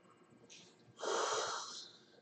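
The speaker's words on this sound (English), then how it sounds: "He didn't yawn, I did." Single close, breathy yawn with an airy inhale that swells into a longer, louder exhale and then fades, heard alone in a quiet room.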